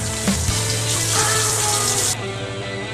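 Water runs steadily from a tap as hands are washed, a continuous hiss of moderate loudness that cuts off abruptly near the end, leaving a fainter background tone.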